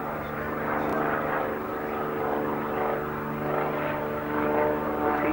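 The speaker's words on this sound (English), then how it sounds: "The T-35S single-seat aerobatic version, Arturo Silva, taking off to continue the Chilean combine display" A T-35S single-seat aerobatic propeller aircraft takes off during the Chilean display at the 1992 Farnborough air show. Its engine drones steadily in the distance with a low, even hum that swells slightly.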